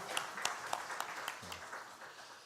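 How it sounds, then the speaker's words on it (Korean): A Korean church congregation at Sunday worship gives a round of applause to God, with dense clapping and a few sharp louder claps poking through, plus a brief low voice midway. "하나님께 영광의 박수 올려드리겠습니다."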